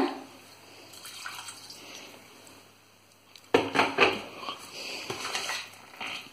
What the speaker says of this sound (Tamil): வேணா கொஞ்சமா தண்ணி சேர்த்துக்கோங்க.